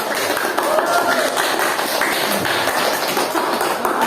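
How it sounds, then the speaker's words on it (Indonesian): Classroom applause for the last presenting group, a dense, steady patter of many hands clapping close by for several seconds, with voices mixed in. "Tepuk tangan dong."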